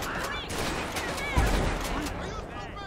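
Gunfire in GTA 5 during a police gang-unit patrol mod: rapid bursts of shots with a heavier boom partway through, loud and dense under a lively voice.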